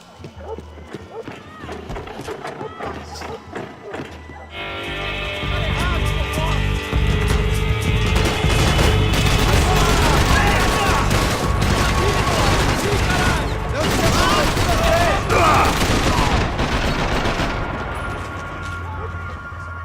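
Gunfire in the shooter game Max Payne 3 crackles in dense, rapid bursts of overlapping shots and impacts, loud and continuous for most of the stretch under shouted talk.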